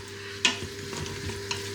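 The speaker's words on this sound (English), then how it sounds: "I just have to stir that again" Taco meat browning in a pan with salsa added is stirred, one sharp scrape of the utensil followed by soft frying crackle and a few lighter stirs, close and quiet.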